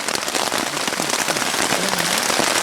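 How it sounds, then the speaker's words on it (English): Heavy rain pelting a tent during a backpacking trip at Seneca Creek and Spruce Knob, West Virginia, a dense close patter of drops drumming steadily on the fabric throughout. "So we're caught in a pretty good rainstorm."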